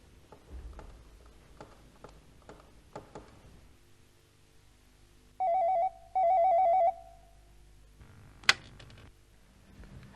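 Quiet ticking and soft knocks, then a telephone rings in two clear electronic bursts, followed by a sharp click as the receiver is lifted.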